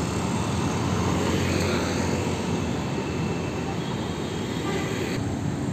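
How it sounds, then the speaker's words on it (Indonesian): A Sumber Alam bus passes on the road during the Lebaran 2024 return traffic, a loud, steady engine and road roar filling the whole stretch close by. "Ada bus Sumber Alam."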